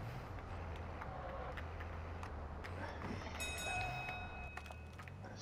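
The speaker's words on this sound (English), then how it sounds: "There's a train." A train rolls past in Call of Duty, a low steady rumble of cars with rhythmic clacking, joined midway by high squealing tones from the wheels, heard at moderate distance without speech.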